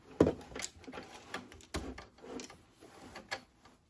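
Sewing machine backstitching through a fabric bag strap on a fold-over messenger crossbody bag, with short uneven bursts of stitching and brief pauses, moderately quiet and close.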